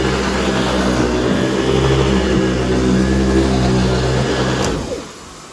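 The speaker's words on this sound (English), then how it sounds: "the motor has quieted down a little bit, so you can barely hear it, which is good." An AirVac AV3500 central vacuum motor runs steadily at close range, a loud constant whirring hum with a bright hiss, then winds down abruptly near the end.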